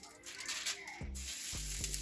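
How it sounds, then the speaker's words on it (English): Steady crackling sizzle of a hot, freshly uncovered cheesy turkey lasagna, close and bright, with soft clinks and low thumps partway through. "Listen to that sizzle"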